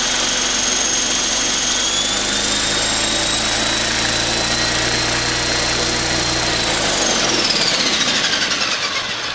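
Rotor of a rebuilt eFlite Blade 400 flybarless RC helicopter spinning up close, a loud continuous whine and buzzing drone with rising high tones that drop away as it spools down near the end, no voices.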